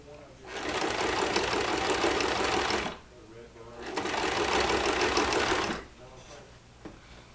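A sewing machine stitches a seam through layers of fabric on a reversible purse, running in two steady, continuous buzzing bursts of about two and a half seconds each, separated by a brief pause, close and fairly loud.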